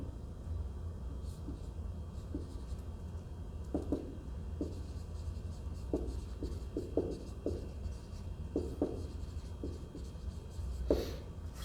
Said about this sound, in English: I can write this down kind of like this